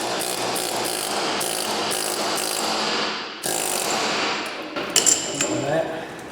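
A hammer drives a chisel against a Ford Focus MK2 drive shaft in rapid sharp metallic strikes, loud and close, rattling in quick bursts before a pause and a few heavier knocks.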